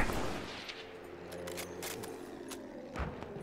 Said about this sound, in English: You have to shout bang whenever you take a shot with your sniper rifle.